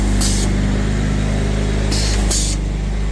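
Water sprays in hissing bursts from a hose leak at about 100 psi on an LMTV brush truck, over a loud, constant engine drone, with two short spurts standing out above the rumble.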